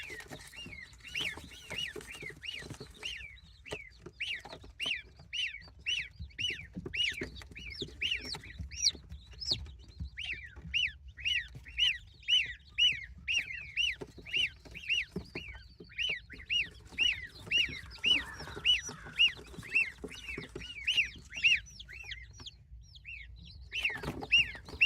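Chickens from a home egg incubation setup make a rapid, repetitive run of high chirps and clucks that carries on steadily for the whole stretch, close by, over a faint low hum.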